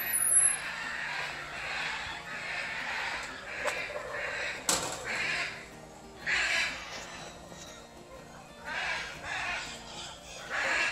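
Macaws in a bird park aviary give loud, harsh squawks in repeated bursts, some near and some farther off, with brief voices in the background.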